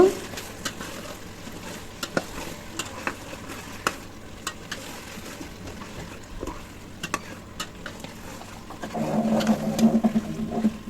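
Beef bhuna in a pan is stirred with cumin powder and garam masala, giving a low sizzle punctuated by regular sharp spoon scrapes and knocks, with the frying swelling louder near the end.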